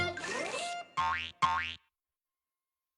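A cartoon boing effect rings out twice in quick, springy bursts after a brief twangy opening, then silence and a short cutoff at the end.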